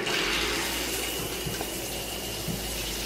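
Shower water running steadily in a home bathroom, a continuous close hiss of spray with a low rumble, unbroken and alone with no voices.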